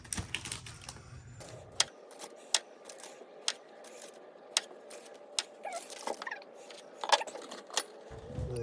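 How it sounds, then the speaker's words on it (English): A knife cuts potatoes in half on a board at a yurt campsite, giving a run of crisp, close clicks and taps at irregular intervals, quiet and alone. "I'm gonna cut the potatoes in half"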